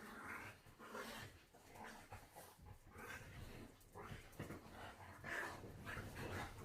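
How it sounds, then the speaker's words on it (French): Dogs playing in the background pant and snuffle steadily, with occasional soft whimpers and low growls, faint and continuous under a quiet room. "mes chiens sont en train de jouer"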